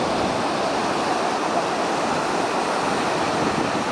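Sea waves washing onto the shore at a beach, a steady loud wash of surf and spray filling the whole moment without pause.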